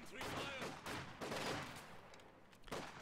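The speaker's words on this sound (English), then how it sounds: "There's a nice rifle grenade." Rifle grenade blasts and gunfire crackle through a winter battle in a multiplayer war video game, a few sharp bursts at moderate distance under a commentator's talk.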